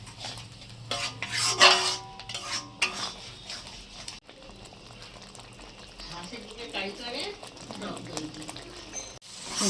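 Egg curry masala being stirred and fried in a pan, a spoon scraping and clinking against the metal amid a soft sizzle, with irregular louder scrapes and bits of talk over it.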